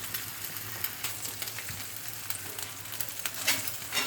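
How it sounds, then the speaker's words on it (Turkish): Sausages, salami and sucuk fry in a pan, a continuous crackling sizzle with occasional sharper pops and stirring scrapes, close and steady with no talk. "Ondan sonra sosis şöyle kavuruyorum tavamda."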